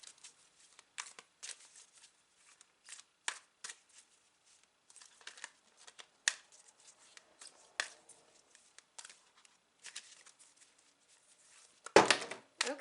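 Tarot cards are shuffled by hand in short, crisp riffles and flicks spread across the span, close and quiet, with a sharper handling burst near the end and no talk.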